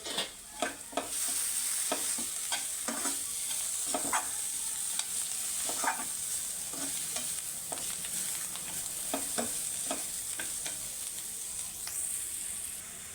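Carrot fry being stirred in a pan after a little coriander goes in, a steady close sizzle under a hiss, with repeated scraping strokes from a spoon against the pan and no talk.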